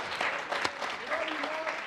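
Brief burst of audience applause at a televised congressional district candidates' debate, moderately loud and dense, with a voice cutting in over the clapping.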